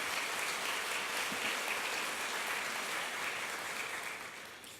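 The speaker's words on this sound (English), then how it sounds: "How about a big round of applause for the folks who set your programs up?" Conference audience applauding at a general opening session, a steady, dense wash of clapping from a large hall that holds level throughout and begins to fade near the end.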